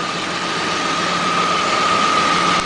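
A car engine converted to run on hydrogen vapor idles steadily, a continuous, even, loud hum with a faint whine and no speech.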